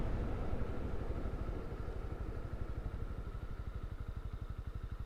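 A loose shift lever on a motorcycle rattles against the linkage, giving a steady fast metallic clatter over a close, idling engine that keeps up a rhythmic chug from start to finish.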